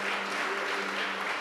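A church congregation applauds, a steady wash of clapping from many hands that fills the whole short moment at a moderate distance.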